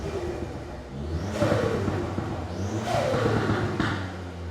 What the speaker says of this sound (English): I'll always give it a few little blips because it's in, I drive them in track mode